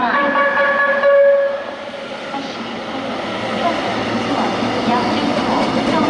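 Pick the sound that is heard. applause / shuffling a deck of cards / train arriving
train arriving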